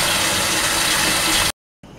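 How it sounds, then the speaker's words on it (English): Loud, steady rushing water pours into a bowl for an ice bath for about a second and a half, then stops abruptly, leaving a faint hiss. "I'm filling it up with water, and I apologize if it's getting a little too loud."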